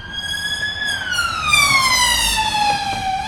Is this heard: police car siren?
yes